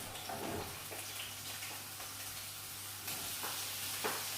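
Mixed vegetables and cauliflower frying in oil for vegetable fried rice, a soft, steady sizzle with a few light stirring scrapes, close and without talk.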